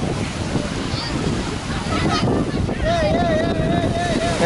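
Ocean waves rolling in at Bondi Beach, a broad continuous wash of surf mixed with wind buffeting the microphone, with people talking nearby.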